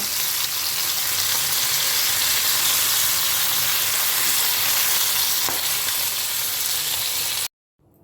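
Pabda fish fries in oil in a pan, a loud, continuous close sizzle and spatter that runs steadily before cutting off abruptly at the end.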